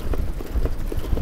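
Harness horses trotting in a trot race, a continuous rumble of hoofbeats with rhythmic clip-clop accents, loud and fairly close, with a faint murmur of voices underneath.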